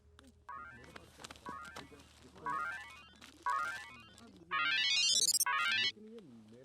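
A mobile phone rings during a call in a Hindi action film, bursts of a bright electronic ringtone rising in repeated chirping sweeps, growing louder and longer toward the end over a low hum.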